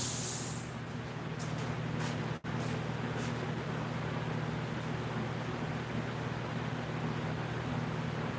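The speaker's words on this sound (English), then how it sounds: "we'll be able to airbrush in the black" An airbrush sprays dark brown paint onto werewolf fur in a steady, unbroken hiss, faint and close, with a brief dropout midway and a low background hum underneath.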